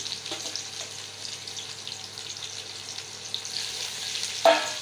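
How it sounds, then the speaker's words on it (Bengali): Onions frying in hot oil give a steady, soft sizzle with faint crackles throughout, then a brief louder hiss near the end as something stirs or hits the pan. "তেল গরম হয়ে গেছে, পেঁয়াজ দেওয়ার কার্যক্রম চলছে চলবে"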